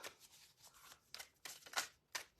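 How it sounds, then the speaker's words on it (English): Tarot cards being shuffled by hand, a series of soft papery riffles and flicks in short bursts, close and fairly quiet with no talking. "Let's shuffle up and see what is coming up for you."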